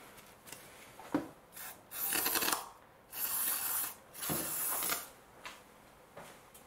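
A clean rag wiping a throttle or intake part on a 2006 Mercedes B-Class W245 during cleaning with air intake carburetor cleaner, heard as close, intermittent rubbing strokes with quiet gaps between them.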